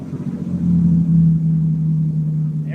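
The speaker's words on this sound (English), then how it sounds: "There's your rev of a Flathead 6." A 1950 Plymouth with a Flathead 6 engine revs up from idle, its low rumbling note swelling and then settling back, close and steady.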